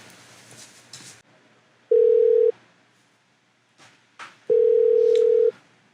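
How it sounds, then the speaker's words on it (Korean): Telephone line tones sound while a call is being placed: two long, steady electronic beeps, each about a second long, separated by a quiet pause. Faint handling noise comes between them. "전화 한번 연결해 볼게요."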